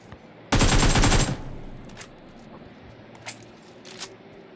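A burst of rapid automatic gunfire in PUBG lasts under a second, loud and close, followed by a few faint isolated shots amid quiet game ambience.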